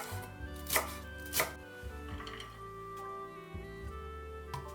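A knife chops three garlic cloves on a board in a handful of sharp, separate strikes, faint and close, with quiet gaps between them.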